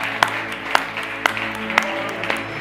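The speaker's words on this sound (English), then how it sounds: "Give God a resounding out clap offering if you believe it." A church congregation claps in a slow, regular beat, about five sharp claps spaced evenly apart over a low hum of the room, fairly close and distinct.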